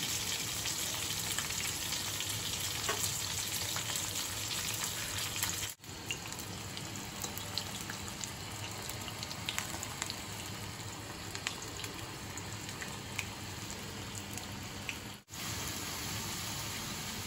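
Pointed gourd and spiny gourd frying in a pan for a home offering meal give a steady, close hiss and sizzle throughout, briefly broken twice by short dropouts.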